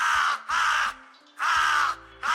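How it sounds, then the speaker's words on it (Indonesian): A crow caws four times in a slow, evenly spaced series, each harsh call loud and close against a quiet background. "itulah suara burung gagak"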